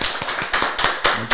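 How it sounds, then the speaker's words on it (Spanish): A few sharp, distinct claps ring out close by as an audience welcomes an interventional cardiologist onto a health show, spaced unevenly over a short stretch. "quiero que le demos un fuerte aplauso a mi amigo Luis Saldívar, cardiólogo intervencionista"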